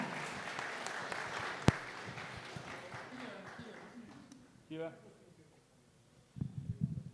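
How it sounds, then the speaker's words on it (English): An indoor audience at a pitch event keeps clapping, the applause thinning out and dying away, with someone speaking briefly near the end. "Don't stop clapping until you see the guy"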